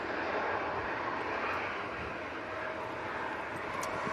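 An aircraft on final approach at Manchester Airport during Storm Amy gives a steady, fairly faint engine drone with a windy broadband wash, continuous and without any voices.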